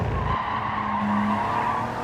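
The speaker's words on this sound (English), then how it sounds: "Tires screeching on exit" In Gran Turismo 7, a Honda NSX race car's tires squeal sharply over engine noise exiting a corner at Tsukuba Circuit, a short loud screech lasting a couple of seconds.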